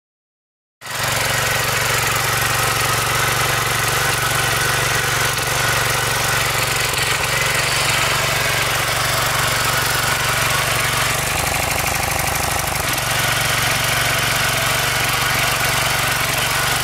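A homemade FrankenTiller, a garden tiller driven by a friction-turned engine setup, starts up and runs with a steady, loud, chugging idle that holds for the rest of the stretch, briefly rising in pitch partway through.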